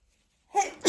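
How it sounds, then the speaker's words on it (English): A sudden human sneeze from someone with hay fever, a sharp close burst that follows a brief silence. "I'm going to sneeze."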